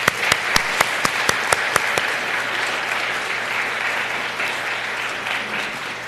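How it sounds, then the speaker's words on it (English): Audience applause for special guests at a medical school pinning ceremony, a broad steady wash of many hands with a few sharp, rhythmic nearby claps early on, filling the room and holding evenly to the end. "let's all give your special guests here a round of applause"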